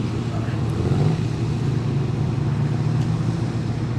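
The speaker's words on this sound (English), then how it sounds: "Lovely to hear the growl of that car as well." A Shelby Daytona Coupe race car on Goodyear tyres at a hill-climb start line gives a steady, deep engine growl throughout, with a commentator talking over it.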